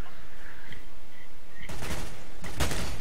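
Bursts of gunfire in a Counter-Strike match, two loud broadband volleys in the second half after a quieter stretch with faint game ambience.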